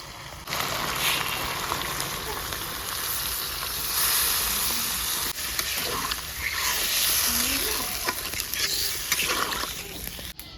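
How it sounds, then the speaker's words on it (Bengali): Chicken with mustard greens and tomato sizzles in a pan over high heat, a dense, steady crackling hiss with occasional stirring scrapes, close and continuous. "আমি এখন কিছুক্ষণ মাংসটাকে কড়া তাপে জাল করে নিব।"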